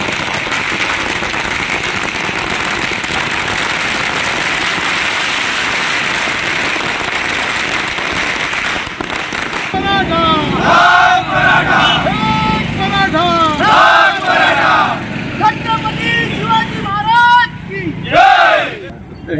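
A crowd in Sawantwadi and Kudal, Sindhudurg, celebrates a Maratha reservation win with firecrackers. A steady, loud outdoor din of bursts and traffic gives way to excited voices and shouts.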